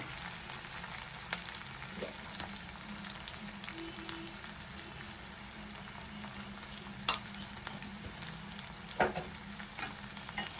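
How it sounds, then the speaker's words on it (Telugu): Garlic and turmeric frying in a pan with tamarind for bitter gourd karam make a soft, low sizzle, with occasional scraping taps of a spoon as they are stirred and a few louder clacks near the end. "అది కలుపుకుంటూ ఇందులో వెల్లుల్లిపాయలు వేసి ఇప్పుడు ఇందులోనే పసుపు వేయాలి."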